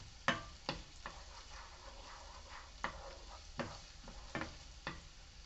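Onions and rice frying in a pan as a spoon stirs them around, quiet sizzling broken by about eight sharp scraping clicks and taps of the utensil against the pan, close and soft.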